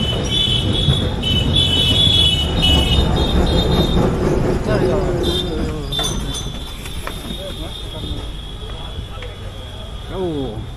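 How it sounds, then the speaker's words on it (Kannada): Steady low rumble of a moving Kolkata city tram, heard from inside, with a high, whining motor tone and indistinct voices murmuring in the background. "ಅಂಥ ಟ್ರೈನಲ್ಲಿ ಇವತ್ತು ವಿಶೇಷವಾಗಿ ನಾನು ಪ್ರಯಾಣ ಮಾಡ್ತಿದ್ದೀನಿ"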